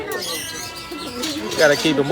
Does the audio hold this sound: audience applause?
no